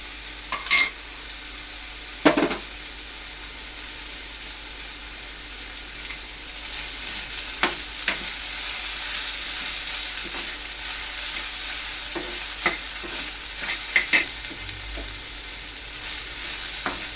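Chopped tomatoes sauté in a pan with a constant gentle sizzle, punctuated by occasional clacks and scrapes of a spoon stirring, quiet and close with no voices.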